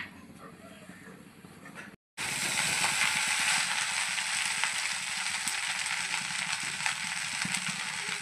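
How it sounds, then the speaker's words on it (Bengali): Cooked rice drops into hot oil in a pan with green and dried chillies and black cumin, and a dense, loud hiss and crackle starts after a short gap, following quieter kitchen sounds. "এই যে ভাতটা জাস্ট দিলাম তেলের মধ্যে, আছে ভাজা করছি"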